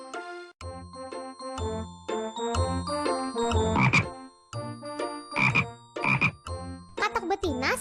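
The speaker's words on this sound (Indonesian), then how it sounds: "Lihat, sepasang katak sedang di pinggir sungai." Frogs croak by a riverbank in a series of loud, close, throaty bursts that come in quick runs separated by short pauses, with faint chiming tones in places.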